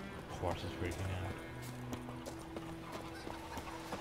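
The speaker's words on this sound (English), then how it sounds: "Horse is freaking out." A horse whinnies and its hooves clip-clop quickly in The Witcher 3, with game music and voices underneath.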